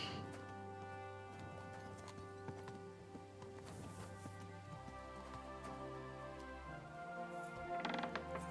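Hooves clip-clop steadily alongside a brief horse whinny in Kingdom Come: Deliverance 2, with layered music and ambient game sounds running underneath.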